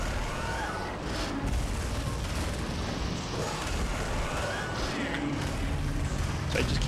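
In The Incredibles on GameCube, a rock-slamming attack lands with a sustained, crashing explosion. Dense rumbling impacts and debris noise fill the whole stretch at loud, steady volume.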